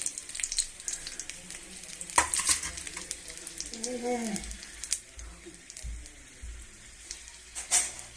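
Dried red chillies and whole spices fry in a pan for kadalai paruppu chutney, giving a faint, continuous sizzle and crackle with a spoon scraping and stirring, while a voice talks softly at times.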